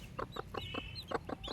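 A mother hen with chicks clucking while being touched, a quick close series of soft rhythmic clucks, about seven in under two seconds, with faint chick peeps above.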